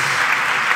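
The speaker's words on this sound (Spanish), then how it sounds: "Aplauso para la reina de New Cortés" A live podcast audience applauds for the queen of New Cortés, a dense, steady wash of clapping that holds at full strength for under a second.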